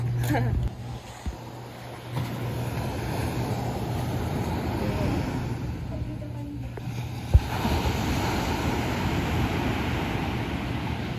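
Steady rush of sea waves breaking on a shore, continuous and fairly loud, with wind buffeting the microphone.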